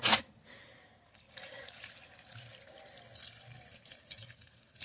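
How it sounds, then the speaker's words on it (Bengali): Potted dahlias are watered, with a sharp knock at the start and then a soft, steady pour and trickle of water into the soil at close range. "ডালিয়াতে খাবার দেওয়া কমপ্লিট, এবার ডালিয়াতে দেবো জল।"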